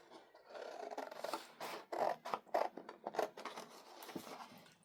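Scissors snip through paper in a series of short, crisp cuts with scraping slides between them, close and fairly quiet, with no voices.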